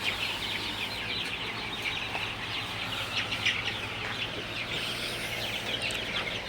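Many chickens cluck and chatter continuously inside a poultry farm shed over the steady drone of a large high-speed exhaust fan. There is no talking.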